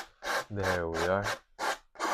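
Paint is scratched off a painting surface in several short, rasping scrapes with brief gaps between them, close and fairly loud, with a short voiced sound between strokes.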